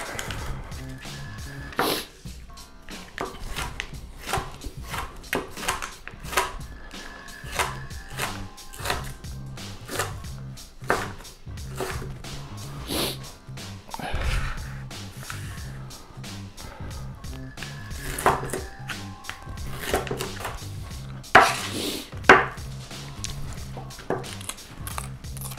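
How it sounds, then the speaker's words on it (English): A knife chops tomatoes on a board for homemade salsa, a long run of uneven, close, fairly loud thuds with short pauses between bursts. "you just have at it, chunk them all up"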